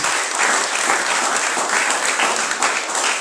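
Congregation applauding at a church service, dense sustained clapping that fills the whole stretch, steady and loud with no voices standing out.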